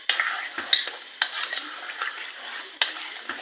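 A spoon stirs a thick starch mixture in a pot while making strawberry kunafa, giving soft continuous scraping and swishing with a few sharper clinks against the pan, close up.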